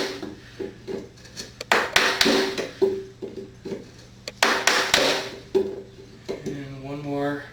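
A wooden mallet strikes a bench chisel cut into wood at a woodworking bench: a steady series of sharp, close taps, some spaced, some in quick pairs, with no talking.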